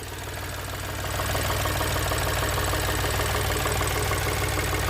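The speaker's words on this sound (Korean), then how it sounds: "엔진음이요 거칠지 않고요 예, 부드러우면서 어, 상당히 조용한 편입니다." A Chevrolet Trailblazer engine idling with the hood open, heard up close in the engine bay as a steady, even mechanical hum that grows a little louder after the first second.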